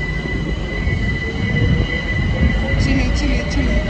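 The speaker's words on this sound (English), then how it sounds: "Here comes our train." A London Overground train pulls into a station, its loud, steady rumble and rolling wheels close by, with high wheel squeal ringing over the noise and faint voices in the background.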